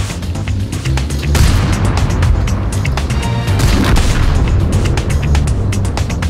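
Tank cannon fire in a World of Tanks battle at an abbey: loud, repeated heavy booms and cracks over a dense rumbling engine and battle background, with no voices.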